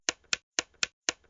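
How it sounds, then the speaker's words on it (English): Flashlight clicks from the video game Five Nights at Freddy's 4, three pairs of sharp, close clicks in a quick steady rhythm. "This is the sound of the flashlight"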